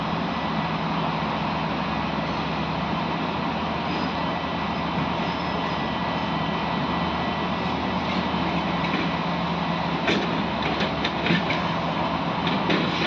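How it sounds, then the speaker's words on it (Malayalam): A Vande Bharat train passes Payyanur railway station, a continuous loud rumble and roar that holds steady throughout, with faint rattling clicks near the end. "നമ്മളുടെ ഇത് വന്ദേ ഭാരത് പോകുന്നുണ്ട്."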